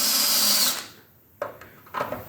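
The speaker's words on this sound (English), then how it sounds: "And we just dip the drill in the water so it doesn't overheat." A power drill whines loudly while drilling out a broken bolt in steel, then stops abruptly, followed by a couple of short clanks and scraping sounds close by.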